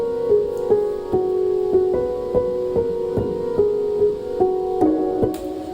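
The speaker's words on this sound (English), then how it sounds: "let's have another listen to what the piano's doing" Piano in a worship band mix playing a repeating riff over chords, steady evenly spaced note attacks with sustained tones underneath, moderately loud and free of talk.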